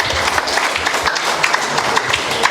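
An audience claps at a Christmas gathering, a dense, steady round of applause filling the room from start to finish.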